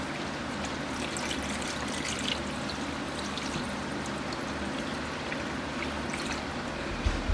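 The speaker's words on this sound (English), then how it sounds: "Now we'll start to fill it with water." Water runs steadily into a stockpot of pork bones seasoned with salt and pepper, a continuous pouring, trickling wash that holds at an even level throughout, close by and with no talking.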